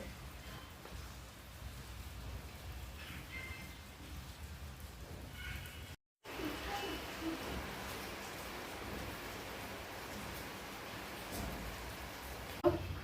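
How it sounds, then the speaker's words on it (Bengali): Light drizzle falls in a soft, steady patter at faint level, continuous throughout with a brief gap partway, and no talking over it. "আজকেও সেই বৃষ্টি ঝিরিঝিরি বৃষ্টিতে"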